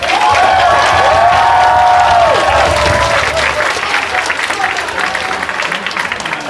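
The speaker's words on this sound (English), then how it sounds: "You guys deserve a round of applause." A concert audience at Harlow's claps and cheers in a dense, loud wash of applause that stays steady and then thins slightly, with a faint tone and some crowd voices underneath.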